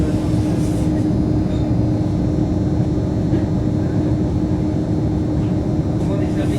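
Steady rumbling electric train interior noise, on a French train from Bayeux, with a constant low hum and rattle, continuous throughout, with faint voices in the background.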